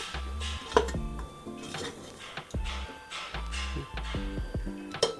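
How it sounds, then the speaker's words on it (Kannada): Spoon or spatula scraping and clinking in a pan while mutton keema is mixed with mutton masala on a village-style stove, a rhythm of irregular metallic knocks and scrapes, close and fairly loud. "ಮಟನ್ ಮಸಾಲ 1 ಸ್ಪೂನು ಹಾಕ್ಕೊಂಡು ಸ್ವಲ್ಪ ಸಿಮ್ಮಲ್ಲಿ ಇಷ್ಟನ್ನು ಹೀಗೆ ಮಿಕ್ಸ್ ಮಾಡ್ಕೊಳ್ಳೋಣ"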